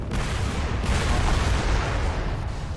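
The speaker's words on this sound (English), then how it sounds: "Oh, there are missiles. Lots of missiles." Missiles fire in a video game as a dense, continuous roar of booming blasts and rumbling artillery-like fire, loud and sustained throughout with no talk.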